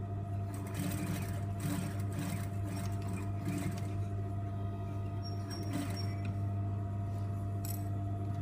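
A sewing machine stitches a fabric seam, a steady continuous mechanical hum and rapid needle chatter running unbroken throughout, close and moderately quiet.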